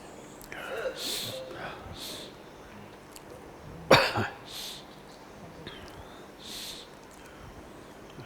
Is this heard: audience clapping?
no